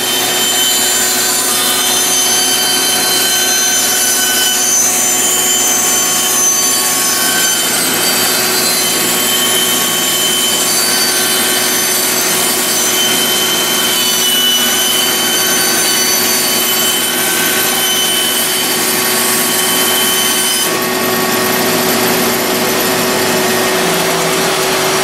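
A power saw cuts wood for a closet build, a loud, continuous whining drone with a steady grinding rasp that holds for over twenty seconds, then shifts pitch slightly near the end as the cut finishes.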